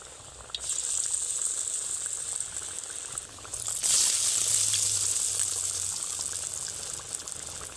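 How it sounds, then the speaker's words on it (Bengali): Snacks fry in plenty of hot oil in a wok, a close, continuous bubbling sizzle that swells louder as more pieces drop in. "বেশ খানিকটা তেল দিয়েছি, অনেকগুলো একসঙ্গে ভাজা হয়ে যাবে।"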